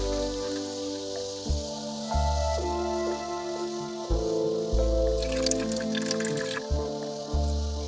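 Water siphons through a rubber hose filled with water, gurgling and dripping in uneven squishy bursts close to the microphone, with a brief trickling splash partway through.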